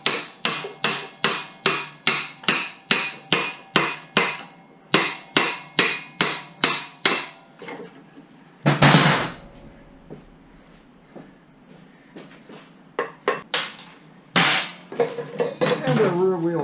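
A hammer pounds on a rear wheel axle to drive it out of a Kawasaki KZ400 motorcycle, a rapid series of sharp metallic strikes in bursts, followed by scattered clanks and a couple of louder bangs.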